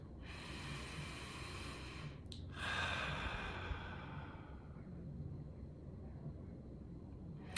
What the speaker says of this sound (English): I dedicate this moment to breathe, open-eyed and present.